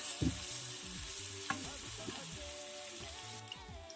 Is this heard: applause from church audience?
no